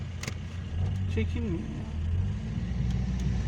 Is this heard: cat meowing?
no